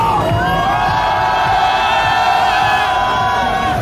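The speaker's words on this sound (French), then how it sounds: "Je voudrais que vous fassiez un tonnerre d'applaudissements pour Nathan!" A crowd at a bodybuilding-themed gathering cheers loudly, with sustained shouts, whoops and high yells that fill the whole stretch at close range. Applause blends into the roar.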